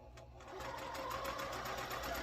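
A sewing machine stitches down a quilt block seam for a Kentucky chain sampler, its fast, even mechanical whir running close and steady throughout, with a voice faintly present.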